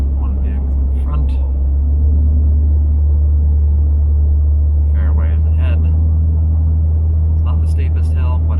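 Jeep WJ driving uphill on a transmission test drive: a loud, steady low engine drone and road rumble heard from inside the cabin, with someone talking over it.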